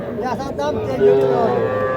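A heifer at a busy rural cattle market lets out one long, loud, close moo that stretches over the whole moment, with the low murmur of the crowd behind it.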